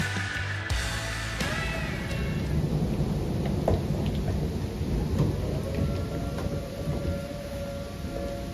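A thunderstorm with steady rain pours continuously, with rumbling thunder underneath and a distant siren tone drifting in the background, outdoors on a wet weekend.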